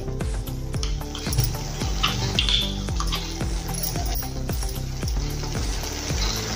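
Milk cream is stirred into sizzling spinach masala for dhaba-style palak paneer: a continuous close frying hiss under regular, rhythmic spoon strokes scraping through the thick mixture.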